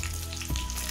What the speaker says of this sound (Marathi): तेल छान तापले आहे. यामध्ये आपण जिरं घालूया.